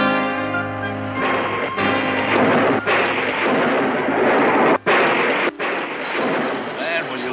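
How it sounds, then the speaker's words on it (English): Thunder rolls in a loud, broad rumble that swells and lingers, broken by a couple of abrupt sharp cracks partway through. "Listen to that thunder."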